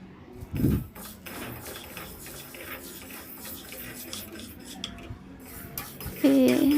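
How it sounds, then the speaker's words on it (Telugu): Urad dal is stirred as it dry-roasts in a pan, giving soft, sporadic scraping and light rattling from a utensil, with one sharper clank early on and a quiet kitchen background. "మినపగుండ్లు అండి మంచిగా దోరగా ఎంపుకోవాలి"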